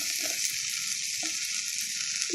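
Green chillies and turmeric fry in a pan with a steady, bright sizzle throughout, with a few soft stirring clicks and scrapes over the hiss.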